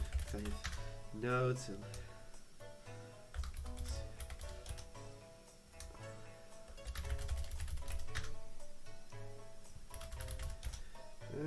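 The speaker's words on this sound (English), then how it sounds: "I'm just typing where everyone's going." Computer keyboard typing during a tabletop Dungeons & Dragons session, steady clusters of key taps running beneath frequent conversation and background chatter.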